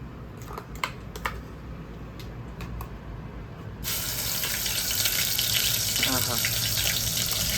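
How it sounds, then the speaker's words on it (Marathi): Ground masala paste hits hot oil as tempering for a mutton and potato curry, a sudden loud broadband sizzle that starts partway through and holds steady, with a voice talking briefly over it. "वाटणाची फोडणी देते आता"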